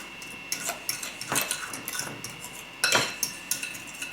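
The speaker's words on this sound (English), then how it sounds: "Get that all stirred up there." Spoon stirring bread dough with baking powder in a bowl, quiet scraping broken by irregular metallic clinks and taps, close by and fairly soft.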